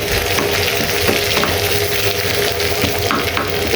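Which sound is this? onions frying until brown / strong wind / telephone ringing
onions frying until brown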